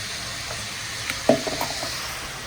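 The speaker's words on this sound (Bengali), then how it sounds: "একটু বেশি বাড়িয়ে দিয়ে ফুলকপিগুলো ভাজছিলাম" Steady crackling sizzle of cauliflower frying in a hot pan, with a few brief clinks and stirring knocks midway.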